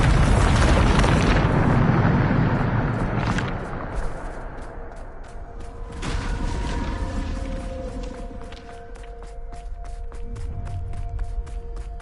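Bombarda spell blasts in Hogwarts Legacy: a loud, heavy rumbling explosion that decays into a ringing, crackling tail, followed by a second booming burst and lingering tonal echoes.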